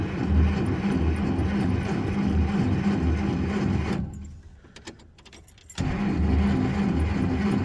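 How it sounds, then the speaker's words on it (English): A 1950 Plymouth Special Deluxe engine, suspected of a weak fuel pump, idles loudly, cuts out into near quiet with a few faint clicks of cranking, then catches and runs again at a steady close rumble. "She doesn't like to restart."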